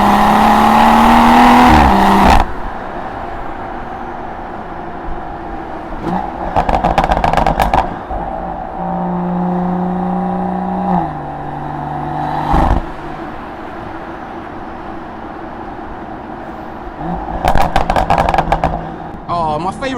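A 500 hp BMW M140i with a B58 engine and a miked, loud exhaust drives through London: a close engine drone rises and falls with revs, broken by sharp bursts of rapid crackling pops.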